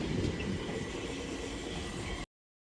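A train passes, a steady broadband rumble and rush of rolling wheels that holds evenly before cutting off abruptly near the end.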